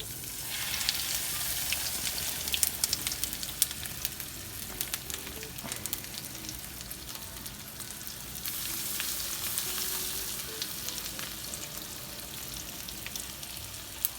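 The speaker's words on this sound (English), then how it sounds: "There should be lots of sizzle." Constant crackling sizzle of chicken frying in hot oil, close up, with sharp pops scattered throughout and no voices.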